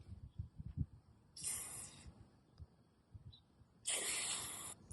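Two short aerosol bursts of CRC QD electronic cleaner hiss onto a battery terminal on a 2000 Land Cruiser UZJ100, close and sharp, with quiet handling noises in between.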